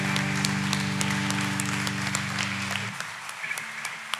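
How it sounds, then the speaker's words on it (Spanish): A church congregation claps as an offering of praise during a Sunday service, a steady wash of applause over a sustained low organ or keyboard chord that drops out near the end, leaving scattered claps. "le voy a invitar que eleve una ofrenda de aplausos al Señor"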